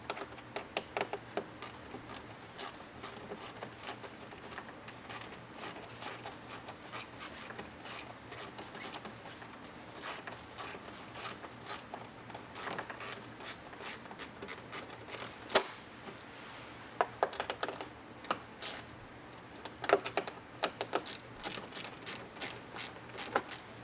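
Bolts on the mud flaps of a 2022 Chevrolet Silverado 1500 ZR2 being tightened with a ratchet, giving a long run of steady, close mechanical clicking and pawl ticks with occasional louder knocks, and no talking.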